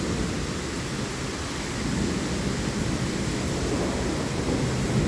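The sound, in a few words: rainstorm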